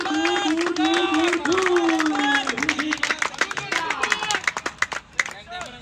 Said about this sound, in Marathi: जल्लोष बघा.